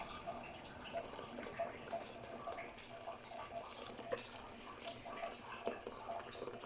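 Water poured into a cooking pot while preparing chicken, a soft steady splashing and trickling with small drips, fairly faint and close, under quiet background noise.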